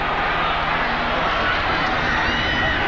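A dense, steady roar rises from a packed stadium crowd at a 1990 Alabama versus Georgia college football game, loud and continuous throughout with no clear breaks.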